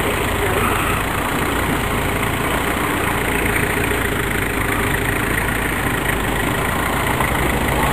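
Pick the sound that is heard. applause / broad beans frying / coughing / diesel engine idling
diesel engine idling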